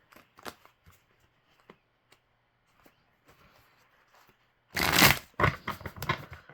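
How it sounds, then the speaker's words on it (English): A deck of tarot cards is shuffled in a short, loud burst of riffling near the end, preceded by faint scattered handling taps and rustles in a quiet room. "Gotta shuffle these a little bit good"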